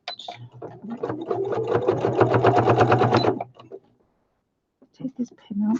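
A sewing machine runs in one continuous burst of rapid, even stitching, close and clear, as it sews the front onto a handmade flower basket. It stops abruptly, followed by quiet and brief handling noises.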